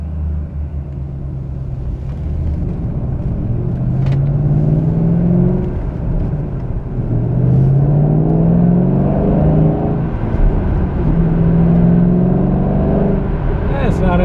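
A Ford Mustang on Mickey Thompson drag radials drives through snow, its engine rumbling steadily with several rising revs as it pulls along, close and loud inside the car while someone talks over it.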